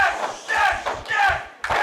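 Wrestling crowd at a DWI Wrestling show chanting and cheering in rhythmic swells, loud and sustained with brief dips between chants.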